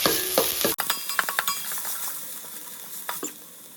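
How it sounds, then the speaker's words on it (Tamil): A spoon stirs chopped onion and garlic sautéing with salt in a pan, giving sharp metallic clinks and scrapes against the pan over a soft sizzle, busiest at first and then thinning to occasional taps. "ஸோ வெங்காயத்துக்கு வதங்கிறதுக்கு தேவையான சால்ட் நல்லா மிக்ஸ் பண்ணி கொடுத்துடலாம்."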